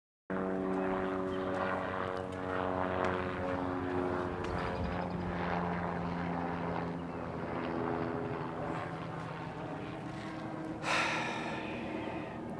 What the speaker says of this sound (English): If it isn't a plane, it's a bloody helicopter.